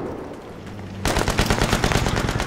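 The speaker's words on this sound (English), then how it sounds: "somebody's shooting at us right now." Rapid automatic gunfire in the video game Battlefield 3 multiplayer, starting after a second of rumbling ambience and continuing as a dense, loud, close burst of repeated shots.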